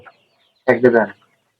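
Layer hens on a poultry farm give a short burst of clucking, a single cluster of calls lasting about half a second and otherwise quiet.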